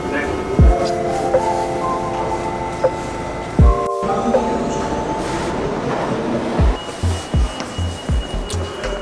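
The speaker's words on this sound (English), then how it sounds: "So we accidentally just took the expressway subway instead of the stop-by-stop subway." An express subway train in New York City rides along with a steady loud rumble and a long metallic wheel squeal, punctuated by heavy thumps and a rhythmic clickety-clack over the rail joints.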